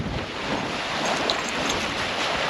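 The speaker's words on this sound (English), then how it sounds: "Hopefully it's not so windy that you can't even hear a word I'm saying" Steady wind gusting and buffeting the microphone outdoors near a SpaceX launch pad, a continuous loud broadband roar with no pauses.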